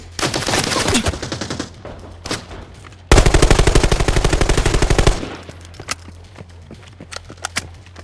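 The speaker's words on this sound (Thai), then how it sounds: "ได้ยินเสียงปืน" Close bursts of automatic gunfire in the video game Arena Breakout Infinite: scattered shots, then a long sustained rapid volley, followed by a few sparse single shots.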